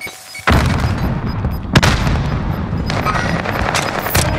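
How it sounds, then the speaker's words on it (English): A frag grenade blast and gunfire in the shooter Call of Duty: Modern Warfare, a sudden loud onset followed by a sharp crack and continuous dense rattling combat noise. "Tossing a frag!"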